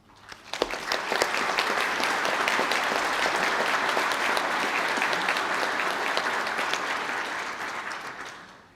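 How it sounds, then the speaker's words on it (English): A hall full of people applauds culinary arts graduates at a college graduation ceremony in a Galway hotel, with dense sustained clapping that swells quickly, holds steady for several seconds, then fades out. "Can I ask the graduates of the Bachelor of Arts in Culinary and Gastronomic Sciences to stand and receive your applause?"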